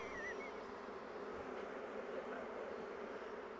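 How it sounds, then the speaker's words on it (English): Honey bees in an opened backyard hive give off a steady, close buzzing hum that holds evenly throughout, with no talking. "these bees are starting to hum a little bit, Tim."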